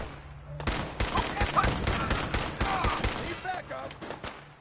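Rapid, close gunfire crackles almost continuously in the video game Fallout 4, dense overlapping shots for several seconds before thinning out, with a voice speaking briefly over the shooting.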